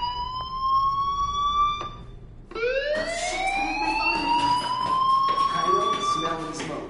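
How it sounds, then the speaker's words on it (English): A fire alarm in the video game Life Is Strange wails in rising, siren-like sweeps, stopping briefly and then starting up again loud and continuous. "Hey, do you hear that fire alarm? That means you should be outside."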